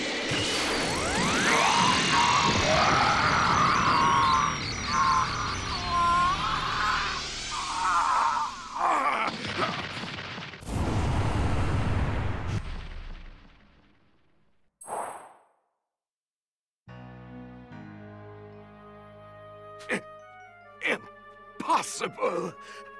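A loud, sustained energy beam attack in the video game Dragon Ball Z Kakarot, with roaring, crackling layers and whooshes, then metallic clangs and chimes, with shouting voices over it.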